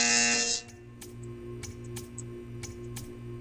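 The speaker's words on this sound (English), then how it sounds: "You will hear a buzzer." Buzzer in the video game Portal 2, a short electronic burst followed by a low droning hum with regular pulsing ticks and faint clicks, no talk.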